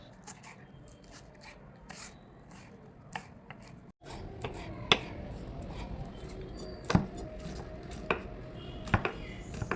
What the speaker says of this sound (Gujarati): અને હવે ઝીણી ઝીણી સમારી લેશું।